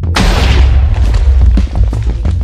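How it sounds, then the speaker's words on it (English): Cartoon explosion blowing up an underwater restaurant, a sudden loud boom that bursts in and keeps rumbling with crackling debris for a couple of seconds. "Someone blew up my Krusty Puff."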